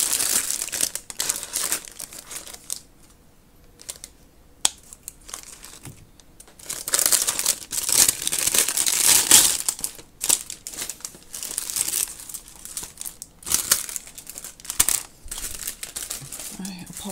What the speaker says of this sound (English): I could never quite decide whether to leave the crinkly noise or not